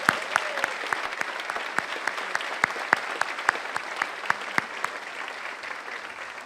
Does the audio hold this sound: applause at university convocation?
yes